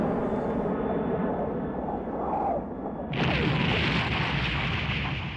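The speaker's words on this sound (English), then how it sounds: "Sounds like a nuclear explosion." A video game nuclear explosion in Remember 11: a deep, rumbling boom erupts over a continuous roaring background, swelling into a sustained blast-like wash of noise.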